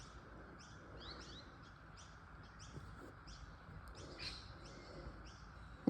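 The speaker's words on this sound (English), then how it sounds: "There's some cockatoos out there eating the seeds" Cockatoos feeding on seeds outside on a rainy morning give repeated short chirping calls at a moderate distance, scattered steadily over a soft background hiss with no talking.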